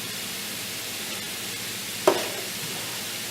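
Low-carb chicken fried "rice" frying in a pan over high heat makes a constant, soft sizzling hiss. A single sharp clack from a utensil cuts in near the middle, and no one speaks.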